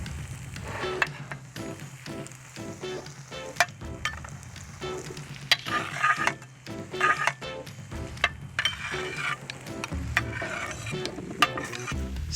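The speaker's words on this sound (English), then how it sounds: "Stir in the vegetables." Grilled vegetables, piquillo peppers and chickpeas are stirred into tender paella rice in a pan, a continuous soft sizzle with scraping and occasional light clinks of the utensil, close and steady without voices.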